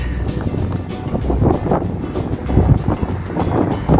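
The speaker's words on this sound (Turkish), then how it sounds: "Deli rüzgar var, gitmiyor." Strong wind buffets loudly and steadily, roaring and rumbling with gusty surges, as though blowing across open water.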